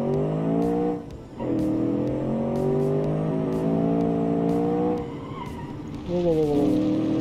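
A racing car on the Pikes Peak hill climb with a manual gearbox, engine droning loudly with harmonic pitch shifts as it brakes and downshifts, brief dips and squeals between, a voice speaking over it.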